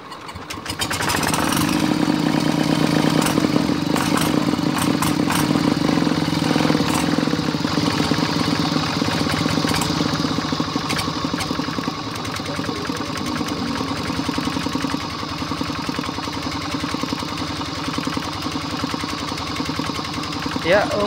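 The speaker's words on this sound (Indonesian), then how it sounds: "Ya, oke, mesin sudah nyala, siap." Hand tractor's small engine, hand-cranked to start, catches and settles into a steady, loud clattering idle that runs continuously, with talk nearby over it.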